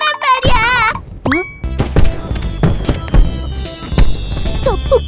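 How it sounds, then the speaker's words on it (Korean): Fireworks going off in an animated cartoon: a rising squeal, then a rapid series of sharp pops and thudding bangs with cartoon voices mixed in. "저 폭죽 내가 준비한 건데 나도 단합대회 가고 싶어."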